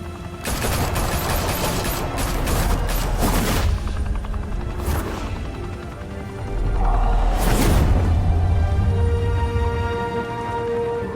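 Gunfire in a Batman Telltale video game, a loud close fusillade of rapid shots in bursts with booming impacts, pausing briefly before another heavy volley.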